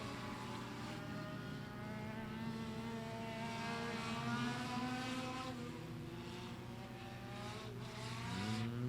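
Legend race cars circle a speedway during warm-up laps, several engines droning and revving together at a distance, their pitch rising and falling steadily as they pass.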